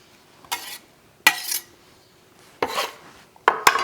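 A bench scraper sweeps roughly chopped chili ingredients across a cutting board in four short, loud scraping strokes separated by brief pauses, with no voices.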